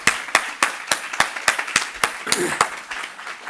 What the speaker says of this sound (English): can we give Jenna a round of applause, please?